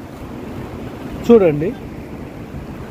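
A waterfall in Meghalaya roars from far off as a steady, broad wash of noise. A short spoken word cuts in briefly partway through.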